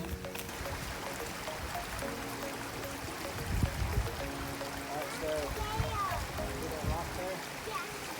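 A creek flows and trickles steadily outdoors with soft splashes, while people nearby talk and move through the water.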